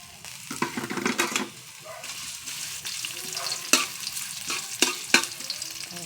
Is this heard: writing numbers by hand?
no